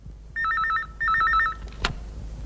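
An old telephone bell rings in two close bursts of warbling trill, fairly near and clear in a quiet room in a Telugu comedy film scene, followed by a short click.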